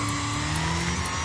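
A car engine in the demolition racing game Wreckfest drones at steady high revs, a loud continuous mid-pitched hum with a faint buzzing edge, heard alone.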